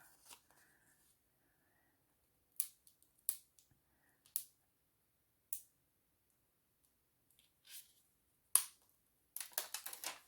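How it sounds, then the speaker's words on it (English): A paper journal card has its backing peeled off in quiet, sparse crackles and ticks, a few isolated clicks spaced out over near silence, ending in a brief cluster of rustling. "Let's peel the back off and then decide where we want to throw it."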